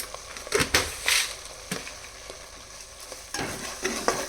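Fish curry with stone salt and chili powder being stirred in a pot, with repeated spoon scrapes and knocks over a light background sizzle.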